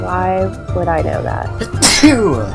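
A single sharp sneeze bursts out near the end of a short stretch of close, loud speech during a live game stream, following the talking.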